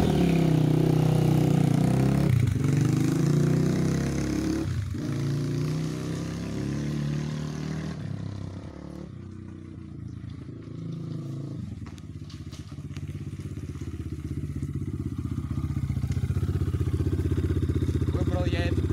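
An Avantis FX 250 motorcycle engine runs steadily nearby at low revs, a rumbling idle that dips and swells, with occasional knocks and thumps.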